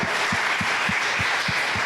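A church congregation applauds during a service, a dense wash of clapping with a steady rhythmic low thump keeping time throughout.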